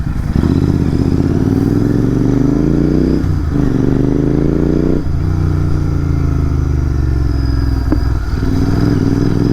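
A Royal Enfield Continental GT650 twin-cylinder motorcycle roars loud and close while riding and racing, its engine note climbing through repeated rising revs and gear shifts, with wind rumble and no talk.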